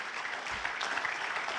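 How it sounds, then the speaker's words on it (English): Applause from the audience at a university convocation ceremony, a dense, steady patter of clapping filling the hall without pause. "So big round of applause at the outset for people here on the dais"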